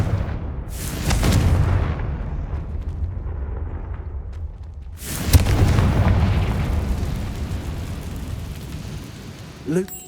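Explosive fire-spell blasts from the Hogwarts Legacy video game, two broad booming bursts with rumbling tails, fairly loud, separated by a brief lull, with a small pop near the end.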